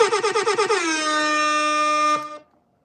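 A loud air horn blast, starting with a quick stuttering pulse before holding one steady blaring tone for about two seconds, then cutting off.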